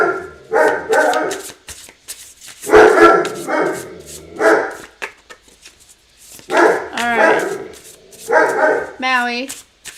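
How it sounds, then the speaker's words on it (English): A dog named Maui barks in repeated sharp bursts, some yippy and high, close to the microphone, interleaved with a person talking over and between the barks. "He's just gonna bark, y'all."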